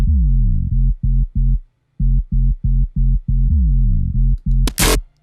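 Dubstep sub bass from a demo song, a deep pulsing low tone in rapid rhythmic stabs with short gaps, ending with a brief burst of noisy impact.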